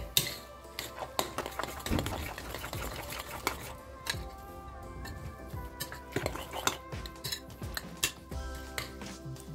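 A spoon or fork clicks and taps rapidly against a bowl while rice is mixed with beaten egg, producing an irregular run of light, close scraping knocks.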